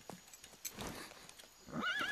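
A horse in a seemingly empty house gives a loud, wavering whinny near the end, after a few faint knocks and rustles, with no talking.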